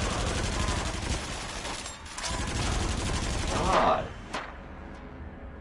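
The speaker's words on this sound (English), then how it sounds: "Stop shooting the barrels! I was trying to shoot the gun!" Rapid gunfire from the Rush of Blood VR shooter game rattles continuously and loudly for several seconds, with a brief lull and a sharp burst near the end, while a player shouts over it.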